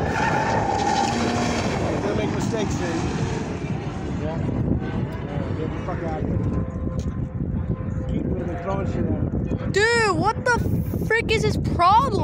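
A Ford Mustang spins donuts nearby, its engine roaring steadily while its tires skid and squeal in rising, wavering tones, and people talk over the noise.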